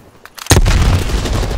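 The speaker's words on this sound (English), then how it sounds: "Oh, stun grenade." A stun grenade goes off in Call of Duty: Black Ops Cold War: a few light clicks, then a sudden loud bang that leaves a sustained harsh ringing roar.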